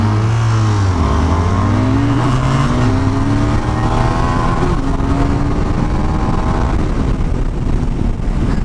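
A KTM 390 Adventure motorcycle engine revs hard and close with traction control on, climbing in pitch through several gear shifts as it accelerates continuously from 0 to 100.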